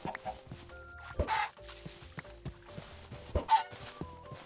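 Minecraft chickens cluck in short, scattered bursts over soft game ambience and a few quiet tones, moderately close and repeating irregularly.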